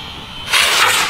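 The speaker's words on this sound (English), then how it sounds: "Rocket powered drone, take two, bigger motors." A rocket-powered drone with bigger motors ignites mid-clip, switching from a quiet hiss to a loud, broad roaring whoosh that holds steady and then begins to ease off, with no voices.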